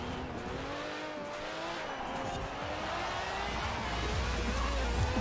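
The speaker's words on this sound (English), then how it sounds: "Yeah, rip the e-brake for the finish." An Aston Martin Vulcan in Forza Horizon 4 slides under the e-brake, steady engine roar with tire squeal and skidding sustained throughout, loud and close.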